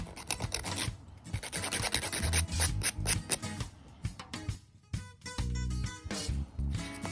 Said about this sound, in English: So we're just going to start filing the nail.